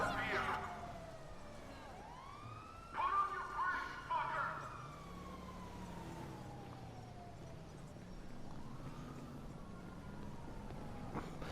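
Police car siren in GTA5 near a fire station, wailing and sweeping up and down at moderate distance, with engine rumble underneath and a few sharper bursts in the middle.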